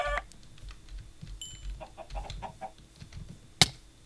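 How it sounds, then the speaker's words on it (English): Minecraft chickens give soft, sparse clucks over quiet game ambience, ending in a sharp, sudden hit near the close. "Chicken, chicken,"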